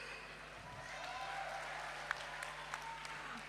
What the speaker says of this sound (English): Please give your applause once again for those rooting for the students team.